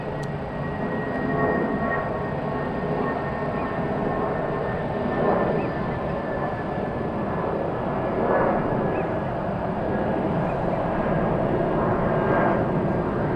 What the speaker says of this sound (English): look at this go around happening right now